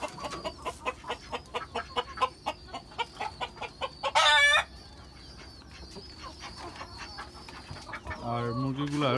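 Backyard hens and a rooster cluck in a rapid rhythmic run of calls, then a loud crow bursts out midway, with further squawks and soft murmuring voices toward the end.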